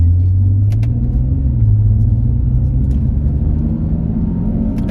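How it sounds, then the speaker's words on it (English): A 2013 BMW 335i F30 M Sport engine drones loud and close in a steady, deep rumble under load, with a few faint clicks above it. "when you get on it, then it starts to open up and scream and stuff like that"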